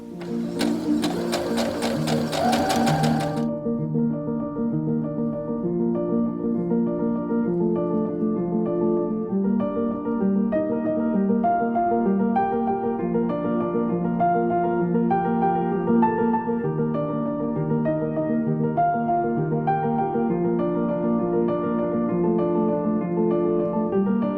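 A sewing machine runs steadily while chain piecing about twenty quilt blocks, its rapid stitching hum continuing with brief pauses and no speech.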